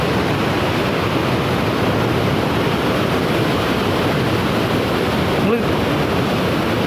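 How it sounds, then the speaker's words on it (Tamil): Water gushes through a barrage at a hydroelectric power station on the Bhavani, a loud dense roar of rushing flow that stays steady and unbroken throughout, close to the microphone. "சும்மா தண்ணிப்பா பிச்சுட்டு போகுதுங்க."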